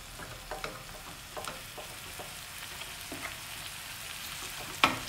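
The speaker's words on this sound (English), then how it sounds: "I'm just going to put this mince in. Just rank the heat up a bit and break it up." Minced meat sizzles and crackles in a hot pan as it is broken up, a soft, steady frying hiss broken by scraping stirs and one sharper clack near the end.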